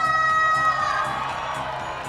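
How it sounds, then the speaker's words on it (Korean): An audience at the Very Merry! Santa Village show at Everland cheers and applauds, a dense crowd sound with shouts and a high sustained tone at first, softening slightly toward the end. "박수와 감사!"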